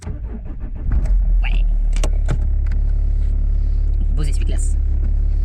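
A car engine is jump-started with jumper cables: it turns over and catches in about a second, then settles into a loud, steady running rumble while people talk nearby.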